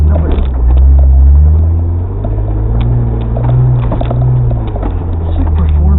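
A Jeep engine rumbles loud and close while driving on an off-road trail, a continuous low drone with slight rises and dips in revs, along with rattles and bumps from the rough ground.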